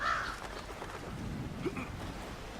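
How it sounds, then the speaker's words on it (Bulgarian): Ravens in Lord of the Rings: War in the North give a faint caw over a quiet game background, one short call near the start and a brief one later. "Гарване."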